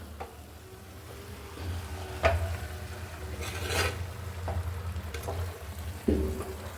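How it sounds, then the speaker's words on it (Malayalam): Cooked, shredded jackfruit thoran is stirred in a pan once its water has cooked off. Soft scraping and rubbing strokes come at irregular intervals over a faint sizzle, quiet and close by. "നമുക്കൊന്ന് ഇളക്കി വെക്കാം"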